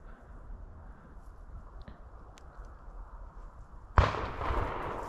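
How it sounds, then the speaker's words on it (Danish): A single distant gunshot during cormorant culling along a river, one sharp report rising out of steady outdoor background noise near the end. "Han skød i hvert fald."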